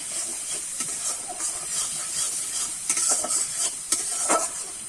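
Spices with salt and chili powder sizzle in a pan for a dhaba-style egg curry while being stirred, a soft continuous hiss broken by scraping strokes of the spoon.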